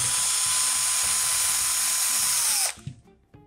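Electric screwdriver unscrewing screws from a Magimix Cook Expert bowl handle, a loud close high-pitched whine held steadily for a few seconds before cutting off, followed by faint small handling clicks.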